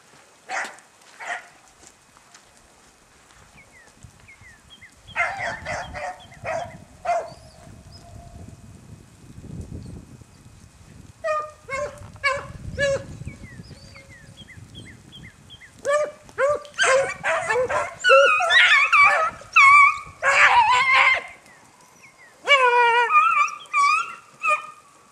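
A hunting dog on a February rabbit run after a downpour gives bursts of high barking, yelps and whimpering howls, growing more frantic toward the end, with quiet outdoor background between the calls.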